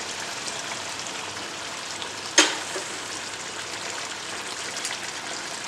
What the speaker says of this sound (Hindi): अब इसके अंदर हम अंदाज से लगभग 2 कप पानी डालेंगे सिर्फ।